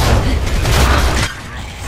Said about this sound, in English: I rolled right into my fucking grenade